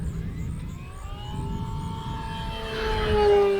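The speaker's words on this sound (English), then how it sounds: "We'll snap it up here and then come down into a regular pass over the runway, full throttle off that dive." An E-Flite Sportix 1.1m RC plane makes a full-throttle pass over a runway, its electric motor whining steadily and swelling louder as it draws near, climbing in pitch toward the end.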